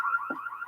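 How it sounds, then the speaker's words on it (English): A steady electronic alarm tone from Splinter Cell Chaos Theory sounds continuously through a brief moment, loud and alone, with a short low thud partway through. "Fisher, watch the alarms."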